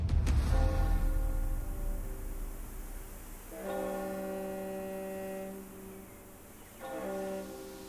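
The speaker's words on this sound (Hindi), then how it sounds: "दूर से किसी छोटे शिप का हॉर्न है। नदी के पास है कहीं।" Harmonic horn blasts from a small ship somewhere near a river, with a long first blast followed by two more separated by pauses, steady tonal calls carrying over a low hum.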